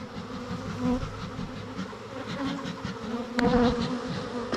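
Honey bees buzz around an opened hive box during a beekeeping inspection, forming a dense, close swarm of overlapping drones that swells toward the end, with no talking.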